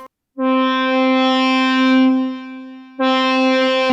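An electric guitar note swells in using the guitar's volume control, a sustained harmonic tone fading up from silence, holding, dipping, then a second swelled note near the end; no talking.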